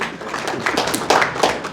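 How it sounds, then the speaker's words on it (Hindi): An audience at a Hindi-language political gathering breaks into scattered hand clapping, a few sharper bursts of claps standing out over a busy room. "आपके लिए ताली बजाइए।"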